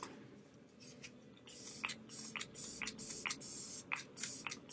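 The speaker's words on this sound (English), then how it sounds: "And then I just mist my face with this." Setting spray misted onto a face from a pump bottle, a series of short, close hissing spritzes in a quick irregular rhythm over a quiet room.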